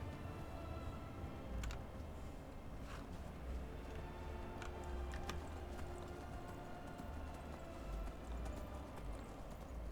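Horse hooves clip-clop in a steady trotting rhythm in Skyrim, quiet and even, over a faint ambient background with no speech.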